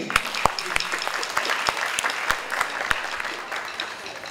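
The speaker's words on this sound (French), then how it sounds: "Donc vous pouvez aussi applaudir Yugen." An audience applauds a young performer after she sings her own lyrics at a stage show for resident artists: steady, fairly close clapping from a room full of people with sharp individual claps standing out, no talk over it.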